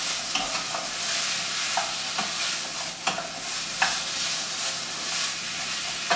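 Vegetables for broccoli soup are stirred in a hot pan, giving a steady frying hiss broken by repeated light scrapes and clicks of a spoon, with no talk.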